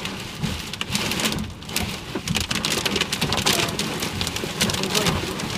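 Heavy Wyoming downpour with hail hammering a car roof and windshield, a dense, loud, continuous roar of drumming drops with no pause, heard from inside the vehicle.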